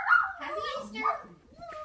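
Puppies bark and yip in short, high bursts at close range, mixed with a child-like voice and some whimpering sounds.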